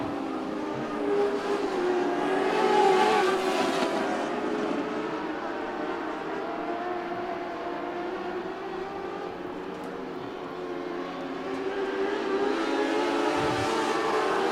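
ModLite race cars lapping the oval at Arizona Speedway during a main event, a continuous engine roar rising and falling as the pack passes, heard from a distance with no clear speech.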